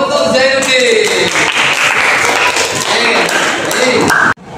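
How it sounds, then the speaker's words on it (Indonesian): Classroom applause for a student, a dense steady wash of many hands clapping at close range that runs nearly four seconds before cutting off abruptly, with voices mixed underneath. "tepuk tangan untuk Zainuddin"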